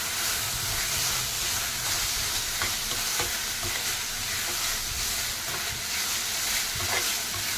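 Ginger garlic paste frying in hot oil for gongura biryani, a steady close sizzle and hiss running throughout with light stirring scrapes and no voices.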